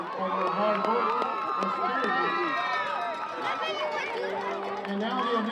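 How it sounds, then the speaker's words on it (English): A crowd at a high school football game between Dunkirk and Fredonia cheers and whoops with excited, overlapping voices and chatter, loud and continuous throughout. "Let's give them a round of applause for their hard work"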